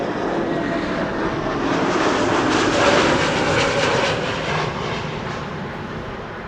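A Nippon Cargo Boeing 747-8 freighter arriving at Amsterdam Schiphol, a loud, broad jet engine roar that swells to a peak midway as it passes close, then eases slightly while staying strong.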